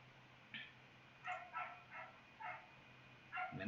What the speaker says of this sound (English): that dog is barking a lot